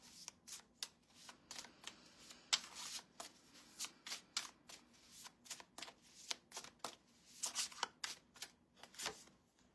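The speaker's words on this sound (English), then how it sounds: "I'm just shuffling cards here." Tarot cards being shuffled during a full moon in Taurus reading, a steady run of close, crisp riffling bursts and soft slaps repeating throughout, with no talking over them.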